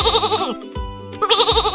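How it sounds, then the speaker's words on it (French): A sheep on a farm bleats repeatedly in loud, wavering calls, with short pauses between the cries. "Un mouton broute l'herbe fraîche. De temps en temps, on l'entend bêler."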